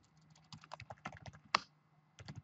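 Rapid typing on a computer keyboard while entering VLAN configuration commands, a dense run of close key clacks with a brief pause and a louder single keystroke mid-way, then typing resumes, with no voices.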